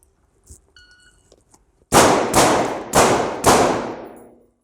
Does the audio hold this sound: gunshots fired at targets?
yes